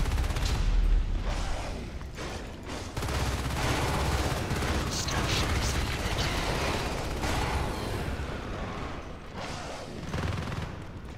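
Dense, continuous gunfire from the Natural Selection 2 video game rattles on for several seconds, loud and close, with heavier thumps near the start.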